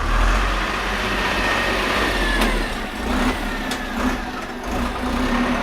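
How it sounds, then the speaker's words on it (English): A tractor engine runs loud and steady at a mid-pitched drone, with slight surges in revs and no one talking over it. "Kind of a cool tractor."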